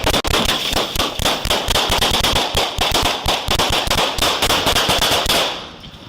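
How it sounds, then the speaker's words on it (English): Rapid gunfire erupts from both sides during a police traffic stop, a dense, loud stream of sharp cracking shots in quick succession that continues for several seconds before cutting off abruptly. "Gunshots erupt from both sides, and Officer Sally"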